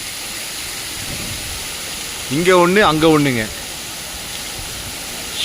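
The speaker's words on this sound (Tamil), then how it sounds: "ஷவர் எப்படி ஒழுகுது பாருங்க தண்ணி." Water trickling and streaming down rocks like a shower at a natural spot in Kanthaloor, a steady soft wash of splashing heard throughout, with someone briefly speaking over it midway.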